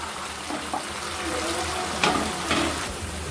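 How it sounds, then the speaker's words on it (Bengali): A spice paste for paneer dolma bubbles and sizzles in oil that has separated out, with a soft continuous fry and a couple of brief stirring scrapes close by. "মশলাটা খুব ভালো করে কষানো হয়ে গেছে, মশলাটা থেকে তেল ছেড়ে এসছে।"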